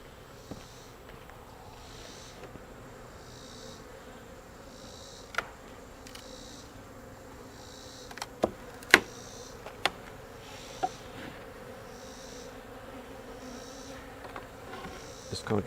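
Honey bees buzz steadily around a beehive box, a soft continuous hum close by, broken by a few sharp clicks and knocks of the box being handled.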